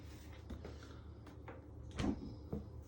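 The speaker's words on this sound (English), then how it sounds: "I'm going to close my fridge door" A home fridge door swings shut after a tray of gingerbread men goes onto the bottom shelf, giving one soft, muffled thud near the mic among small kitchen rustles, with no talking.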